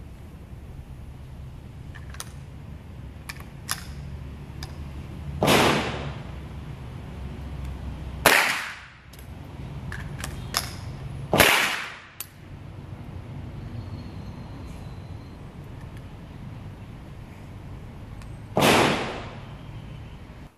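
Rifle shots ring out during magazine reload practice at a range: four loud, sharp reports spaced several seconds apart, each followed by a short echoing tail, with faint metallic clicks in between.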